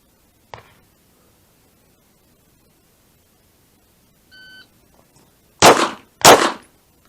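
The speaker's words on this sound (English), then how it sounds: "we're going to do it non-dominant hand, and we'll have 3 seconds to fire 2 shots." A short electronic beep from a shot timer is followed by two sharp, loud pistol shots about half a second apart, fired with the non-dominant hand in an otherwise quiet setting.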